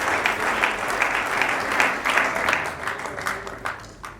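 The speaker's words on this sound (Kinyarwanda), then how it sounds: "Mufashe tubakomera amashyi menshi cyane." Audience applause at a celebration: a steady patter of many hands clapping, moderately loud and fairly close, fading slightly toward the end with no talking over it.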